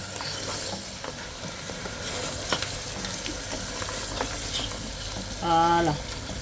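Cameroonian goat kondre cooks in a pot over medium heat, giving a low continuous sizzle and bubbling with occasional stirring clatter and a brief tonal sound near the end.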